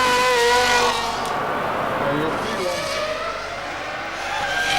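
A Ferrari Formula 1 car from the 2000 season on a qualifying lap, its loud high-pitched engine wail sliding up and down in pitch as it shifts and brakes through corners, continuous and fairly close.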